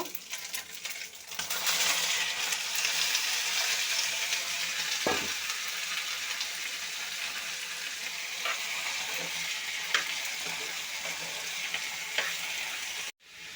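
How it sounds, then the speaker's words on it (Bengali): Steady sizzling of ginger paste and cucumber frying in a hot pan, loud and continuous, with occasional scrapes and taps of a utensil stirring. "এখানে আমি হাফ চামচ আদা বাটা দেব। একটু ভাজা ভাজা করে নিচ্ছি।"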